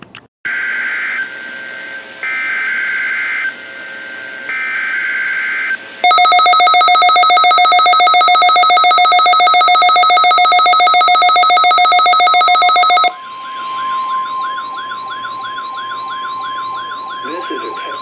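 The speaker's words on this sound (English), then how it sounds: "The attention signals you just heard will automatically activate special receivers to warn of the impending hazard." NOAA weather radio alert from Maine stations: a loud tone burst pattern with three short data bursts, then a long steady dual-tone warning alarm lasting about seven seconds, followed by a wavering tone under a steady hum.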